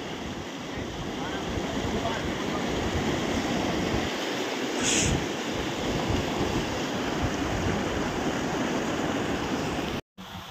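Rushing water of a rocky mountain stream near Vasudhara waterfall above Mana village in Uttarakhand, a loud continuous broadband roar with wind buffeting the microphone throughout.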